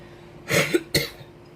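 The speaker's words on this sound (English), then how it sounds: "I am choking and coughing all over myself." Two harsh, close coughs in quick succession, loud and abrupt, with brief quiet before and after.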